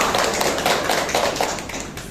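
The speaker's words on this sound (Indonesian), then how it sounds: "Tepuk tangan untuk kita semua." A biology class claps together in a classroom, a brief, dense burst of many hands with light shuffling and voices mixed in.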